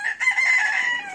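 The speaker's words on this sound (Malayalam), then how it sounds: "ഈ നിൽക്കുന്ന കോഴീനെ കണ്ടോ?" A native chicken with brown, white and black feathers at a market crows once, loud and close, in a single sustained call.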